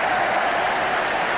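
A stadium crowd applauds at half-time of the 1978/79 Arsenal v Ipswich football match, a loud, steady wash of clapping and crowd noise throughout.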